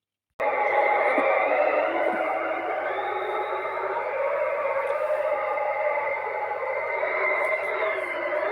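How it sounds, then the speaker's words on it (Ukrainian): Blizzard wind roars as a steady, dense hiss with thin whistling tones drifting over it, starting abruptly and continuing evenly without a break. "Заметіль."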